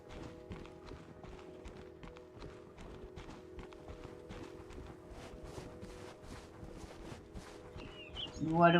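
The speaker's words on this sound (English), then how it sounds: "Wild horses." Hooves clip-clop in a steady walking rhythm, evenly spaced and fairly close, over a constant low tonal drone, as wild horses walk in the video game Unpetrified: Echoes of Nature.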